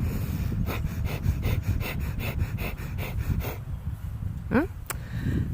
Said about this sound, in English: It's an exhale. We're going to practice pumping the exhales.